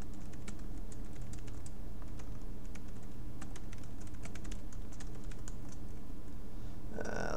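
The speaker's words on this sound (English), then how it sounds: "I'm gonna type this real quick over to the Getter Hub" Rapid clattering of fingers on a computer keyboard, steady bursts of keystrokes close by for several seconds, with a brief louder shuffle at the end.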